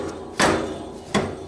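A hammer striking a stuck front steering part on a Yamaha Kodiak or Grizzly ATV during a bearing replacement, two sharp metallic whacks spaced under a second apart, close and loud with no talk.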